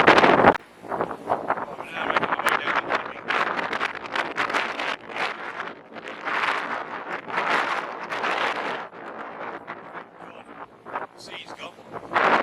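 Gusty wind buffets the microphone on the beach at Half Moon Bay during stormy weather, a loud continuous roar that swells and dips in waves across the whole stretch.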